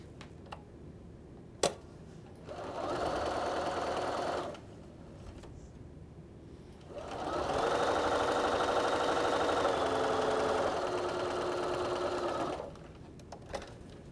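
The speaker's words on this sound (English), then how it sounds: "you can actually stitch both sides before trimming or pressing" A sewing machine stitches quilt block seams in two bursts of steady, rapid mechanical whirring, the second longer, with quiet ticks and clicks between runs.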